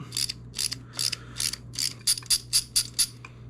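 A ratchet wrench clicks out small bolts from the top end of a Yamaha TTR125 engine, about a dozen quick, crisp, close ratcheting bursts in an even rhythm over a low steady hum.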